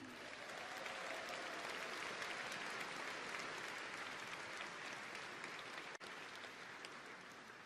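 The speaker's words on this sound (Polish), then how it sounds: "Przeciągnijmy te brawa dla Anny Bryłki" Sustained crowd applause, steady and dense, fills a Konfederacja party convention hall in honour of Anna Bryłka, with no break for the whole stretch.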